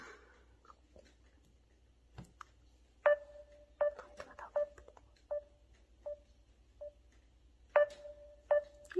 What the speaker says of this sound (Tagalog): Ay, tumatawag ang kapatid ko